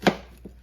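A knife chopping onions into chunks on a board: one sharp, close chop followed by a softer second tap, with quiet room tone between.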